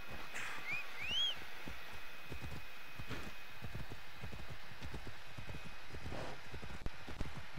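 Hooves beat in a steady, rapid clip-clop as several horses gallop in Assassin's Creed Odyssey, the rhythm continuous and fairly close, with a brief whistle-like whinny near the start.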